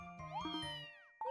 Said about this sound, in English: What's up, little kitty?